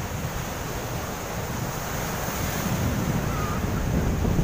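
Steady roar of strong ocean surf in Sarangani Province, Philippines, mixed with gusty wind buffeting the microphone, continuous and fairly loud with no voices.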